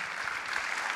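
A conference audience applauding together, a dense steady patter of many clapping hands heard from within the hall, moderately quiet and continuing through the whole moment with no speech.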